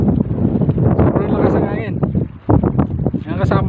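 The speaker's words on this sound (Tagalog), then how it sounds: "Sobrang lakas ang hangin." Strong wind at a marina buffets the microphone in loud, rumbling gusts, with a voice speaking over the roar throughout.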